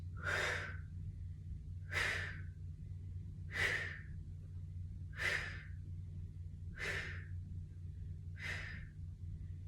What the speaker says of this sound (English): So inhale here, exhale, lift.